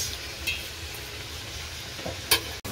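Soft sizzling of onions frying in oil after garlic, with a couple of sharp stirring scrapes and a clank near the end.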